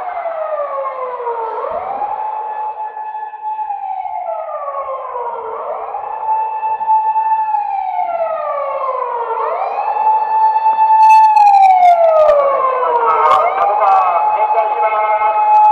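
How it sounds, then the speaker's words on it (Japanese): Wailing siren of a Japanese police patrol car, rising and falling in repeated slow sweeps, loud and steady throughout, growing slightly louder and busier near the end with faint crowd noise underneath. "パトカー来ました"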